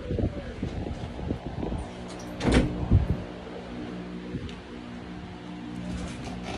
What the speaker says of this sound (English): Hang on, let me shut this door.